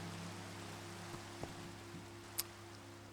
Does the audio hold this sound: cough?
no